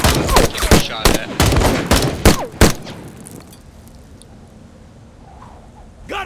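Rapid gunfire bursts in the war game Call to Arms, loud and close with a mix of single shots and automatic fire for about three seconds, then fading to a quieter, distant rumble of background battle.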